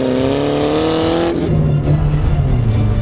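A car's engine revs hard with a rising, strained note while the car reverses at very high speed, around 130 km/h, then the pitch drops into a lower, rougher roar. The engine sound is loud and close throughout, with no talk.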